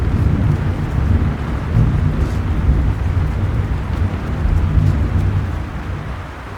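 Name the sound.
thunderstorm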